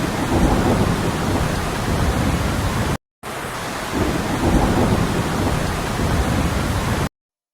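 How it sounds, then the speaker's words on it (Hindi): Thunderstorm with heavy rain as a story sound effect: dense, steady, loud downpour roar with rumbling thunder, broken by a brief silent gap and then cut off abruptly near the end, with no talk. "एक दिन गांव में एक बड़ा तूफान आया।"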